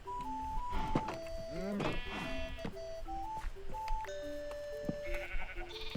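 Minecraft sheep give a few wavering bleats near the middle, set against steady tonal background music that keeps playing throughout.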